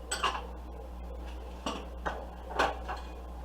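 Spring form pan handled in a home kitchen while making New York cheesecake: a few sharp metallic clanks and knocks, spaced apart, close by over a low steady hum.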